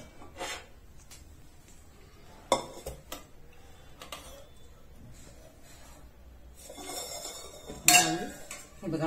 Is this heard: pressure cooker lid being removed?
yes